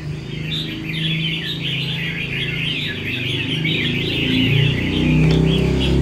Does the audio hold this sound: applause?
no